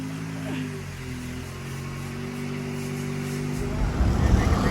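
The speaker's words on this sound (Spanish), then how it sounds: "¡Apalo el Supercharger!" A Toyota engine with a supercharger idles with a steady harmonic drone, then revs up into a louder, rough burst near the end, with people talking faintly around it.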